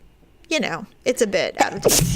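A single sharp sneeze bursts close into a microphone right after a woman's speech.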